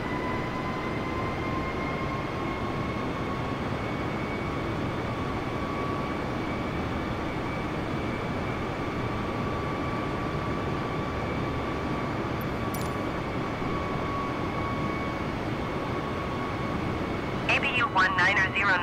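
An airliner on final approach to land on runway 10 at Marrakesh, heard from inside as a steady loud engine roar with a sustained whine throughout, while radio voices talk over it.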